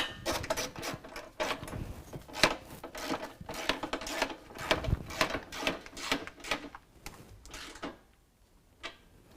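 A frame bolt on a running board bracket being tightened on a 2015-2019 Chevy Silverado, steady rapid ratcheting clicks in close bursts with metallic clinks, stopping near the end.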